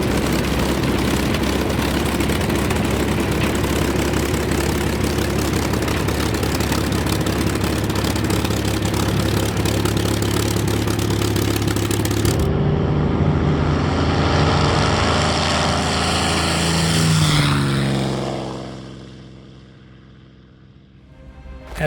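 A T6 propeller trainer's engine roars loudly and steadily from inside the cockpit during takeoff, then the tone shifts and the roar eases into a lower, fading drone near the end.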